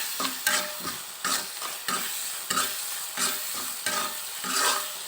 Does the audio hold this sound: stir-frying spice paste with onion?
yes